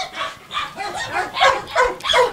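A Highland Terrier kept in Kenya barks in a quick series of about seven sharp, close yaps with short gaps between them, fairly loud and clear.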